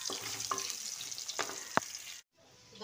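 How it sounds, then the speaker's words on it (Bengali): Potatoes fry in a pan with a steady hiss and a few scraping stirs, then the sound cuts out briefly near the end before a quiet return. "আলুগুলো একটু ভেজে আমি তুলে নেব"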